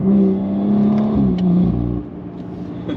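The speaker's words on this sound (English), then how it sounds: "The downshifts sound really good." A BMW G30 540i with a B58 engine, free-flow downpipes and a valvetronic exhaust downshifts, giving a loud deep exhaust drone that dips and rises as revs change, then settles lower.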